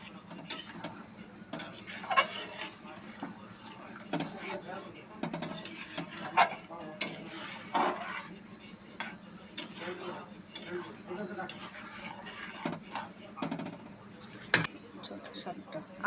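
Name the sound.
stirring prawns in a pan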